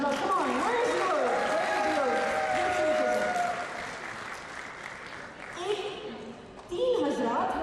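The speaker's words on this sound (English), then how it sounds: "Please give Johanna a big round of applause." An awards gala audience claps for a winner, applause rising and fading under music and a speaking voice, with bursts of clapping returning toward the end.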